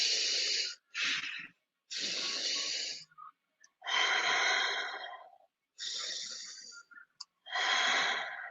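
Rapid, forceful breath-of-fire exercise from yoga practice, heard as close, loud bursts of hissing breath in several long runs separated by short pauses, with no talking.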